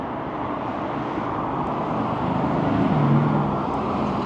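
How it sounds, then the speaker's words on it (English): A heavy truck rumbles past at a stadium construction site, giving a continuous low engine drone that swells toward the middle and then eases, heard alone without talk. "That's a loud truck."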